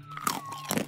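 Someone biting into a crunchy chocolatey snack: one sharp, close crunch quickly followed by a second crackling crunch, very brief.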